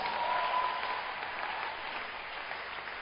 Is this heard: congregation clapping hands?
yes